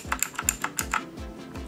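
Keys on a Rampage KB-R19 metal gaming keyboard are pressed in a quick run of about eight crisp, close clicks, fading into softer taps toward the end, with no voices.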